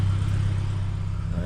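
A Subaru BRZ out on its first road drive after an engine replacement, its engine holding a steady, loud low drone from inside the car, with someone talking over it.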